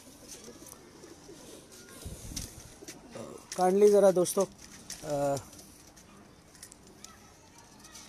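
Pigeons kept in a small home loft coo softly in the background while someone speaks close to the microphone, the low calls faint and intermittent beneath his voice.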